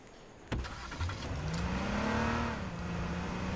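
A car engine in the game H1Z1 hums and rises in pitch as it accelerates, steady and fairly close, after a sharp click at the start.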